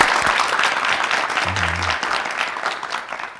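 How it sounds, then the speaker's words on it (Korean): Loud, sustained clapping from a crowd at an education lecture fills the whole stretch, steady and dense with no pauses. "우리 들뜬 마음으로 큰 박수 다시 한번 들어보도록"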